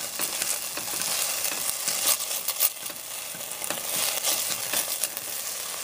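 Minced garlic sizzles and crackles in hot oil in a frying pan, a steady close hiss with occasional scraping stirs and no talking.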